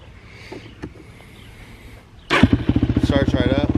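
A 2005 Yamaha YFZ 450 ATV with a freshly rebuilt Wiseco top end fires up abruptly after a quiet stretch, then settles into a loud, close, steady rapid idle with a rhythmic pulsing beat.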